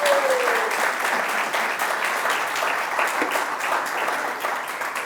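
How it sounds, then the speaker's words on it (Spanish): A church congregation bursts into loud, sustained applause, steady dense clapping filling a large room from start to finish. "Démosle un aplauso a Jesucristo."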